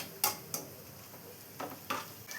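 Fried onions are lifted out of hot cooking oil, with a faint background sizzle broken by four or five sharp clinks and scrapes of a utensil against the pan, close and quiet, no talking.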